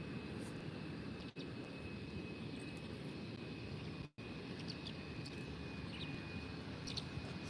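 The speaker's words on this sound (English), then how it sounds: "the Welling A320 Athletic Club de Bilbao livery is now taxiing, about to reach their holding point" An Airbus A320 in Athletic Club de Bilbao livery taxis toward the runway holding point at Málaga airport. It gives a steady, moderately distant engine roar with a thin, constant high whine, and no one speaks.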